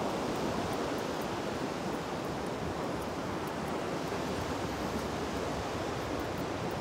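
Sea waves washing onto the shore at a beach, a continuous dense roar of surf filling the whole stretch with no let-up.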